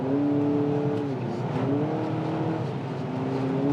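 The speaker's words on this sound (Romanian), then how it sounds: "uitați-vă cum se aude când accelerezi" A 2024 Honda CR-V accelerating on a wet road, heard from inside as a steady engine drone whose pitch climbs, dips with each shift and rises again, with a faint synthetic tone layered in and no talking.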